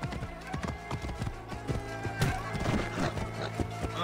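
Steady clip-clop of horse hooves at a walking pace in Assassin's Creed Origins, fairly close, over a constant low hum, with a brief whinny midway.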